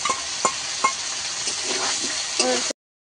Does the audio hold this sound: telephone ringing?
no